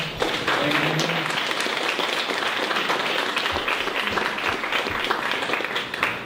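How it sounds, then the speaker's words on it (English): An audience breaks into sustained applause for a speaker at a talk, a dense wash of clapping from many hands that holds steady for several seconds. "Let's give Sean a big round of applause."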